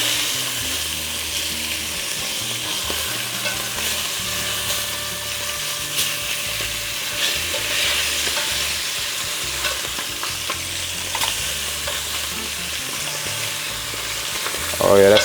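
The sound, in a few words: beef short ribs searing and browning in a pan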